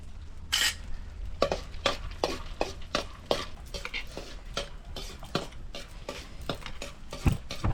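Pistachios fry in a pan of oil as a spoon stirs them, sounding as repeated close scrapes and clinks against the metal over a steady low hiss, with no talking.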